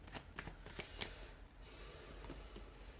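Tarot cards being shuffled by hand, a quiet close riffling and soft flapping with a few sharper snaps, steady for about three seconds with no talk.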